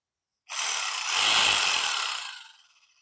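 A Hitachi 110-volt electric rotary hammer drill runs with no load, a loud steady whirring motor drone that starts abruptly, holds for about two seconds, then winds down and fades.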